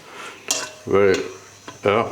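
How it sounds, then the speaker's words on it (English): A spoon clinks and scrapes against a pot while beef stock soup for French onion soup is stirred, three short loud metallic bursts close by. "Stir quickly around."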